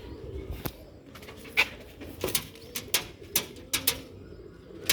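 Breeder pigeons cooing close by in repeated short throaty bursts, several calls spaced across a few seconds with a light background murmur, no talking.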